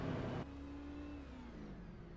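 Race car engine in a racing league video game at Iowa, a loud rev that drops abruptly as the driver clutches, then a lower sustained engine whine with a slight falling pitch.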